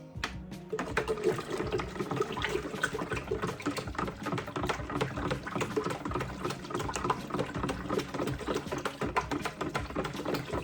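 Continuous sloshing and swirling of liquid as a strawberry and banana mead is stirred, a steady, busy churn with a sharp clink at the start.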